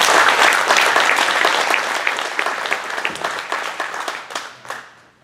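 An audience at a Metro Prep Coach of the Year award event claps loudly, with dense applause at first that thins into scattered individual claps and fades out near the end.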